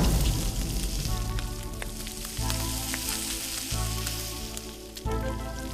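A frying pan sizzles in the cooking game Beastro, a constant loud crackling hiss with sharp pops and a low rhythmic thump recurring every second or so.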